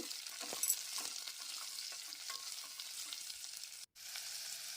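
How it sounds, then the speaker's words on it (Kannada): Onions frying in oil for a buttermilk rasam, a soft, steady sizzle with occasional light spoon clicks and stirring, faint and close, briefly cut off near the end, no talking. "ಈರುಳ್ಳಿನ ಎಣ್ಣೆಯಲ್ಲಿ ಫ್ರೈ ಮಾಡಬೇಕು"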